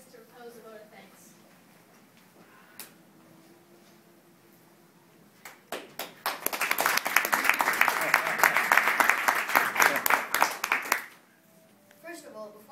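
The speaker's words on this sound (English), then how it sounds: "can I just get one more round of applause for Swana and Henry's display today?" Audience applause at a debate final, a dense burst of clapping that swells after a few scattered claps, holds strongly for several seconds, then fades out, with quiet talk before and after.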